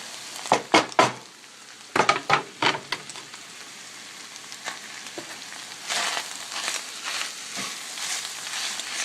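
Mushrooms frying in a pan as a gravy base for a healthy shepherd's pie: a few sharp clinks and stirring scrapes up close, then a steady soft sizzle that swells and holds.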